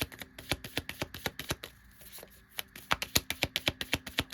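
Tarot cards are shuffled by hand in a quick run of crisp flicks and riffles, close and fairly quiet, pausing briefly in the middle before picking up faster again.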